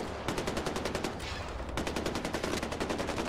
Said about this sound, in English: just gonna keep on shooting